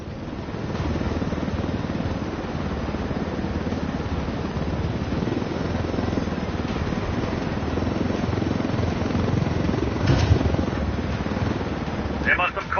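Helicopter in the video game Ghost Recon Wildlands, a constant loud rotor and engine drone carrying steadily across the whole stretch, with a few brief clanks near the end.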